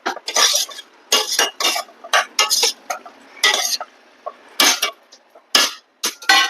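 Broccoli stirred in a cooking pan, a series of close, irregular metallic scrapes and clatters from the utensil against the pan, separated by short pauses, with no talking.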